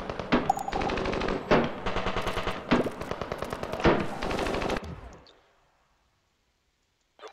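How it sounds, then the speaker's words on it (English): Sustained machine gun fire in the video game Surviving the Aftermath: a loud, dense run of rapid shots that stops abruptly and fades into silence, with no voices over it. "one of you got a machine gun."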